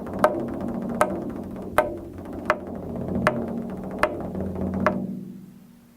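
A drum is struck sharply on its wooden frame in an even, rhythmic pattern of about eight crisp clacks over a low ringing drum tone that fades out at the end.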